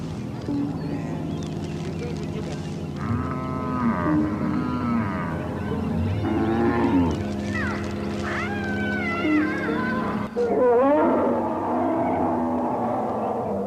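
Cattle moo in a Mandari cattle camp where cows are tied up, with several overlapping drawn-out calls, some near and some farther off, over a steady background hum.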